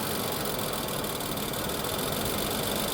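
An Infiniti QX60 engine idles steadily with one cylinder deactivated while carrying an oil-consumption misfire, giving a continuous, close, even mechanical hum with a faint rhythmic pulse and no talking.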